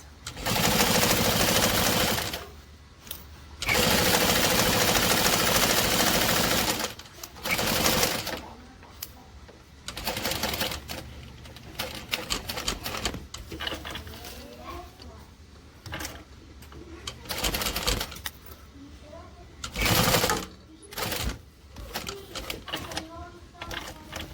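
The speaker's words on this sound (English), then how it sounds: "we're going to top stitch down our folded edge across the bottom and back up twice" A sewing machine top-stitches a folded fabric edge in several loud, steady bursts of rapid whirring, separated by pauses with quieter handling and a voice talking.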